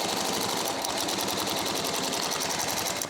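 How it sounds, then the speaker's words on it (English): An industrial binding machine running steadily, stitching binding tape over the inside seams of a U-zip duffle bag, with a fast, even mechanical chatter that holds close and loud throughout. "with the binding machine, we can go ahead and bind up these edges on the inside"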